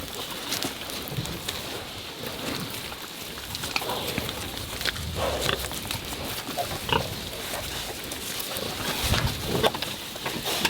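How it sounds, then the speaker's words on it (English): Several pigs, a herd of around 200, grunt and snort in irregular bursts, some near and some farther off, over a busy outdoor background. "he brought a new batch of pigs in here."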